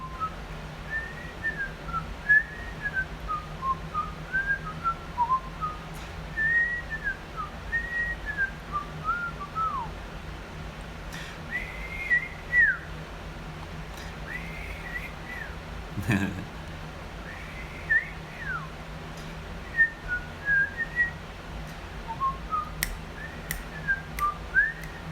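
A person whistles the Andy Griffith tune softly, the melody thin and quiet over a steady low room hum, with a brief knock partway through.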